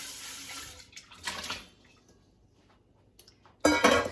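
Tap water runs over wheat berries and lentils in two short bursts, a brief splash followed by a louder, fuller gush after a quiet pause.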